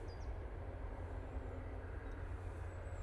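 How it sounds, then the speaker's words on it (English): A Cessna Citation business jet departs Manchester Airport, heard as a steady, distant broadband roar of jet engines with a low rumble, continuous throughout. "We've got BizJet going out as well. I think it's a Cessna Citation."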